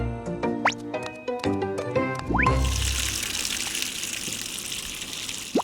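Hands washed under a running tap in a children's cartoon scene, with water gushing steadily and loudly after a short musical intro of plinking tones, continuing for several seconds.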